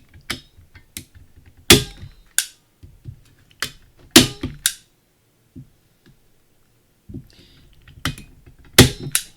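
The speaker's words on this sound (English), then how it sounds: "If you find you don't have the hand strength for a manual staple gun, you can use a electric staple gun." A manual staple gun fires sharp staples into a repurposed wooden shutter during a paper organizer build, giving a scattered series of loud, close clacks and snaps with short quiet gaps between them.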